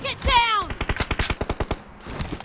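Rapid automatic M416 rifle fire in a mobile shooter game, a tight burst of about a dozen evenly spaced close shots after a brief game chirp, cutting off into low background noise.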